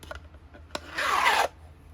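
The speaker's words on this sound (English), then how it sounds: "So, it has a lid that slides off." A plastic sliding lid scrapes along the storage box for diamond painting drills in one short rasping stroke of about half a second, close and fairly loud, after a few light clicks, with no talk.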